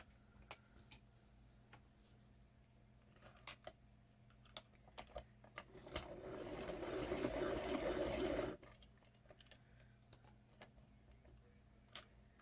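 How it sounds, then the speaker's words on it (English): A hand-crank pencil sharpener grinds colored pencils in one steady burst of about three seconds, close and fairly quiet, with light taps and clicks before and after. "I really don't like sharpening my pencils much, but I want to have a sharp point."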